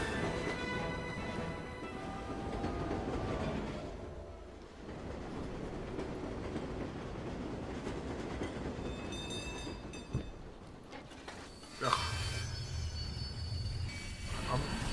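A ghost train rolls along its tracks in the Disneyland Adventures video game, a steady rumbling clatter with a brief dip partway through and a sharp bump near the end, mixed with game effects and music.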